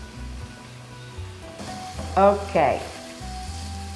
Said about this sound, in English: So now we let it sizzle a little bit.